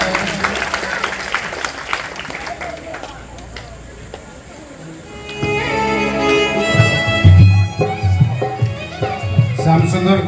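Applause from the audience at an award ceremony of a village youth drama association in Odisha. It starts as a moderate patter of clapping that rises and mixes with loud music and crowd noise as the clip goes on.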